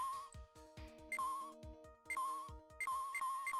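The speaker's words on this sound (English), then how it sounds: "Cell phone." Cell phone ringtone in the Phoenix Wright Ace Attorney Trilogy game: a bright electronic melody of repeated chiming notes, played several times in quick bursts over soft low game tones, with no talking.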